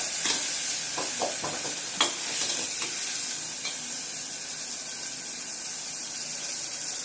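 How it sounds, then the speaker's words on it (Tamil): Chopped tomatoes sauté in a tamarind gravy for kathirikkai kulambu, a steady close hiss of frying with a few scraping stirs early on. "இந்த தக்காளி குட்டி குட்டியாக கட் பண்ணி வச்சுருந்தோம்னா அதையும் போட்டுட்டு நல்லா வதக்கி விட்டுருவோம்"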